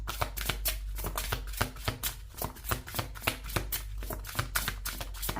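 A deck of tarot cards is shuffled up close, with a quick run of crisp riffling snaps and soft slaps repeating steadily throughout.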